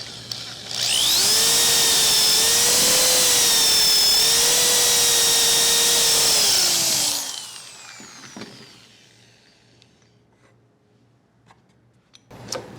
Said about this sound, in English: Line up our next mark and continue with our drilling process.